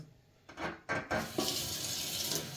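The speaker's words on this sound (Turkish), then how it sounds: "Şimdi de istiridye mantarlarımızı yıkayacağız. İstiridye mantarlarımız e, temiz zaten. Sadece bir suya dökeceğim." Oyster mushrooms being rinsed in water: a tap runs steadily into a sink while the mushrooms are poured in and swished, a continuous close splashing and trickling with no talk.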